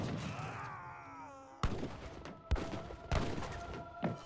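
Scattered cannon and artillery blasts and gunfire from an Age of Empires 3 battle, with heavy cannons and dragoons. Three or four sharp, separate booms break over tonal game music and ambient sound at moderate loudness.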